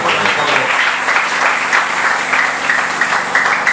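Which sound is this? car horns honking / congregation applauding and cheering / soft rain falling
congregation applauding and cheering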